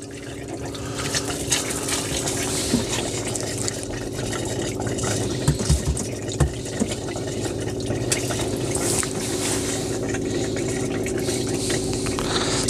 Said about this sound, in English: So the water's going into the water heater, filling up, and it's pushing air through,